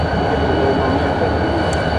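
A switching locomotive works in a rail yard at Denver North Yard, its diesel engine producing a steady, loud, broad rumble that fills the whole stretch.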